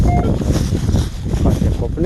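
Low, rumbling wind buffets the microphone steadily throughout during metal detecting at an old homestead site in Ukraine, a dense roar filling the low end with a voice faintly mixed in.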